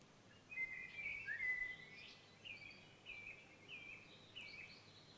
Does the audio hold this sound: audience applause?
no